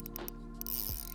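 Fishing reel drag loosened during a bass fight, giving a short, quiet burst of ratcheting clicks with no talk over it.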